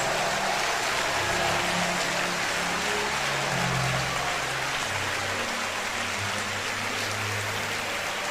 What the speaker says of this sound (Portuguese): Quem acredita nisso, aplauda Jesus.